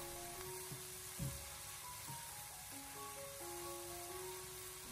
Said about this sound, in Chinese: 然后再继续的给它翻炒一小会，把豆瓣酱炒出红油，给它炒出酱料的酱香味